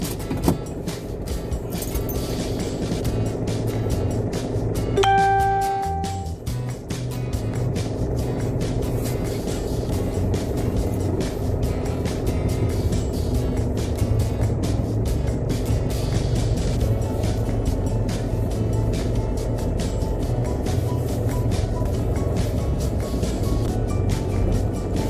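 A car with a hydraulic clutch pulls away and drives on. A steady engine drone runs throughout, with a short tonal whine near the start.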